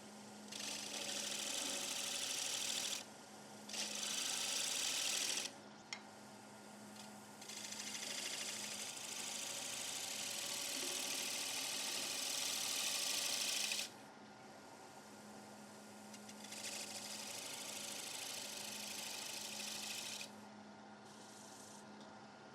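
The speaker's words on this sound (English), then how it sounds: "I'm just going to turn the lathe down, grab a fresh gouge, same 16mm gouges, and I'm just going to come along here" A 16mm gouge cuts wood on a spinning lathe in bursts, a bright hissing shaving sound over a low motor hum that stops and starts several times. It stays fairly faint, with no talk.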